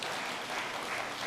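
A church audience claps in a continuous, even burst of many hands, a short and fairly faint wash with no talking over it.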